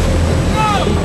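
Strong El Niño wind roars against the microphone in a loud, constant rumble, with a faint high whine drifting through the middle.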